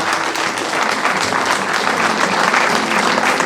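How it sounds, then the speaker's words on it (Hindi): Loud, continuous audience applause at a felicitation ceremony for NEET students in Srinagar, a thick crowd clapping steadily without a break. "भरपूर तालियों से इस्तकबाल करें।"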